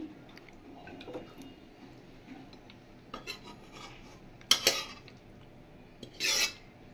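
A pan of lemon chicken comes off the stove with soft metallic scrapes and clinks of cutlery against cookware, quiet and close, with a couple of brief louder rattles near the end.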